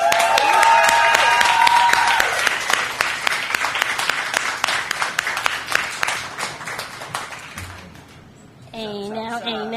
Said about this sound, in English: Make some more noise for Sosa!